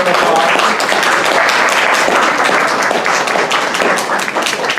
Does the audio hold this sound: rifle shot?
no